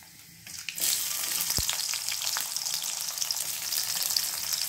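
Chopped onion and green chili hit hot oil with whole spices for a goat tripe fry, a sudden loud sizzle that stays dense and steady with light stirring scrapes, close up and without talk.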